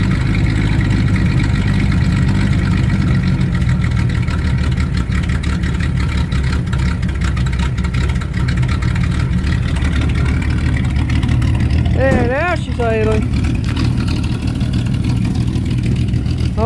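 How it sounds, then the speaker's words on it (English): Engine of a vehicle with its carburetor jet dialed fully out, running rich, idles roughly and steadily with slight revving, loud and close, while a voice speaks briefly near the end. "I got the fucking jet dialed all the way out, so it's running pretty rich."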